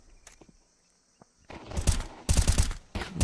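Pistol fire from a video game esports match: after near-silence broken by faint ticks, two dense bursts of loud, rapid shots crack out back to back, close and harsh, with no voices over them.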